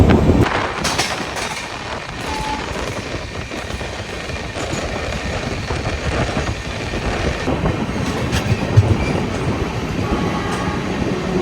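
Thiruvananthapuram Rajdhani Express rolling along at speed, a steady loud rumble of wheels on rail joints with rhythmic clickety-clack and occasional metallic clanks, continuous throughout with no talking.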